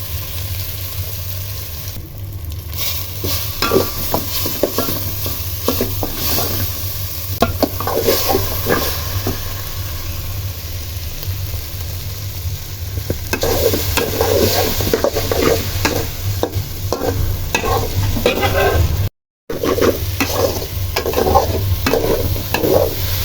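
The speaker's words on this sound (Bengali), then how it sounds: "এবার নুডলসটা ঢেলে দিচ্ছি" Noodles stir-fried in a hot pan, with a continuous close sizzle and repeated rhythmic scraping and tossing strokes that grow busier partway through, then a brief dropout before the frying resumes.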